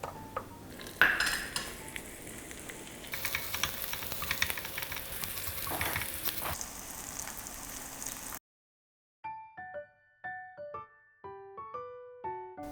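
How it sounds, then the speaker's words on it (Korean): Tteokgalbi, Korean grilled meat patties, frying in a hot oiled pan, with a steady sizzle and clinks of utensils for several seconds before the sound drops away, followed by a short run of melodic tones. "달궈진 팬에 기름 한 큰술 정도 넣어주시고 떡갈비를 구워주세요"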